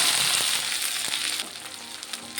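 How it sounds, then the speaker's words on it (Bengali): Chopped onion fries in hot oil for a chicken darbar curry, giving a loud, continuous bright sizzle with a few faint stirring clicks and no talking. "পেঁয়াজটিকে একটু ভেজে নেব"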